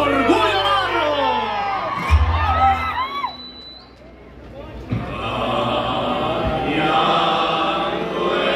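A crowd shouts and cheers, with high excited voices and whoops, dipping briefly before a steady roar of cheering resumes.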